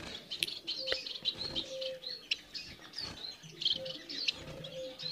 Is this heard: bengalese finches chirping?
yes